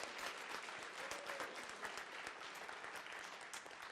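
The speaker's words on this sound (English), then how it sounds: "Please, round of applause for all of our competitors for Tekken 7" Audience applause for the Tekken 7 competitors at the Red Bull Kumite event in Las Vegas, a dense, steady patter of many hands clapping together, sustained for several seconds at moderate distance.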